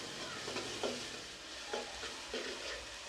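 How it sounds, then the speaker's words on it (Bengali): Chopped onion, salt, ginger paste and garlic paste fry in hot oil for a Bengali mixed vegetable curry, giving a soft, steady sizzle with a few gentle stirring scrapes, close but fairly quiet. "এর মধ্যে আধা কাপ পেঁয়াজ কুচি দিচ্ছি, লবণ দিয়ে নিব, 1 চা চামচ আদা বাটা আর 1 চা চামচ রসুন বাটা দিয়ে মশলাটাকে ভেজে নিচ্ছি"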